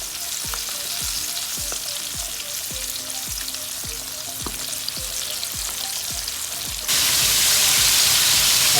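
Chicken fries in hot oil, a dense continuous sizzle with a steady rhythmic tapping throughout, the sizzle jumping louder and brighter near the end as more pieces go in.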